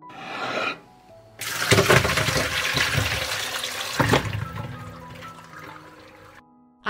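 Water soaked with fresh strawberries is drained off in a loud, rushing splash that runs for about five seconds, close by, then tapers away.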